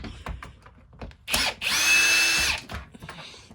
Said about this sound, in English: Why is this drill so fast?